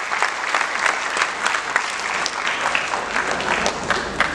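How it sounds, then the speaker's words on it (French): A crowd at a Ramadan charity seminar in Béjaïa claps for nine associations, sustained dense applause filling a hall, loud and steady throughout. "S'il vous plaît, des applaudissements pour les 9 associations"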